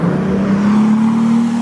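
A car revs up to race an Audi R8 at a Cars & Coffee show in Morrisville, North Carolina, its engine holding a loud, steady drone that climbs slightly in pitch across the whole stretch.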